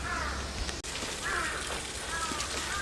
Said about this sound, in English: but there's a lot of crows around here.